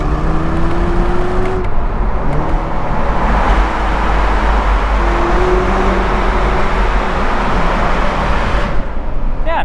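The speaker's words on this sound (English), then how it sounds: "You hear the exhaust." A 2018 Chevrolet Camaro RS convertible with the 2.0-liter turbo engine and automatic drones loudly from the exhaust while cruising, a steady close engine and road roar with no talk.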